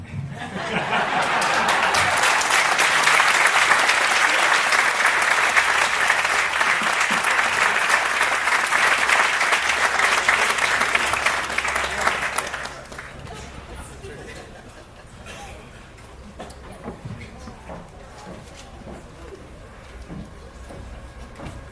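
Applause from a crowd at a leadership awards celebration swells and holds strongly for about twelve seconds, then cuts off, leaving quieter murmured chatter and a few chuckles from the room.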